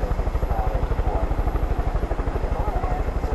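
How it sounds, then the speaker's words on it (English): Helicopter from the video game Far Cry 5 with a loud, steady, fast rhythmic rotor thump that holds close throughout. "There's choppers in the area."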